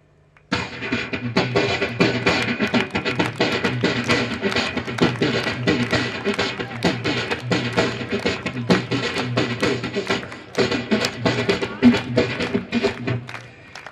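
Continuous vocal imitation of a Rajasthani dhol drum, quick rolling beats with deep bass thuds, steady and loud throughout, pausing briefly near the end before resuming.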